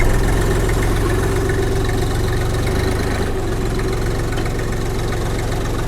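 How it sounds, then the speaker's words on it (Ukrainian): A Forte XT-244 mini tractor engine idles steadily in neutral with a low, even rumble and faint rattling vibration, close by and continuous throughout. "Чотенько, ровненько працює двигун."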